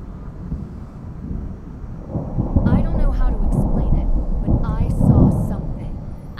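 Loud rolling thunder in the Nancy Drew: Midnight in Salem game, a broad low rumble that swells and peaks twice over several seconds, drowning out quieter voices talking underneath.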